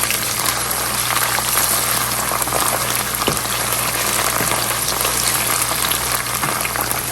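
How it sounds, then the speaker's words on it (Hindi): Ginger garlic paste sizzling with onions in a pan while beef keema is prepared, a steady, dense hiss and crackle of frying that stays even and close throughout, with no voice over it. "ये चला गया अदरक लहसुन का पेस्ट, इसमें चला गया। थोड़ा सा इसकी करेंगे भुनाई।"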